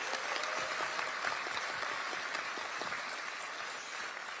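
Steady applause from a large audience at a Gyeonggi Province party leadership meeting in Suwon, a dense, even wash of many hands clapping that holds throughout and eases slightly toward the end.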